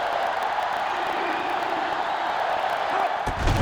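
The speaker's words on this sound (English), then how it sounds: "this crowd is going absolutely insane" A stadium crowd in NCAA Football 08 roars steadily, a dense wash of cheering and whooping that stays loud and constant throughout without any break.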